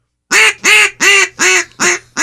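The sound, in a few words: duck call imitating a mallard hen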